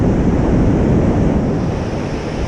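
Ocean waves wash onto the shore at Macassar, a loud, continuous rushing surf mixed with wind buffeting the microphone, with no voices.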